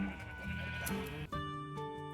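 Sheep bleat inside a barn in Minecraft, with repeated nasal, wavering cries that overlap one another. A brief gap falls midway, and the bleating stays close and fairly loud throughout.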